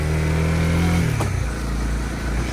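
A motorcycle engine climbing a hill, heard close and steady, with the engine note dropping partway through as the load changes, a continuous loud drone with road and wind noise and no talk.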